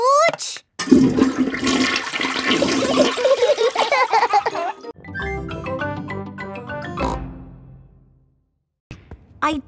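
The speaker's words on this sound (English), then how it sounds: "Flush the toilet, George." A cartoon toilet flushes with a loud, rushing gurgle of water lasting several seconds, followed by quieter musical sounds and a pause before a brief final noise.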